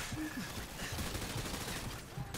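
Dense gunfire rattles in Call of Duty Modern Warfare 2, rapid overlapping shots forming a continuous loud burst, with a voice briefly audible underneath.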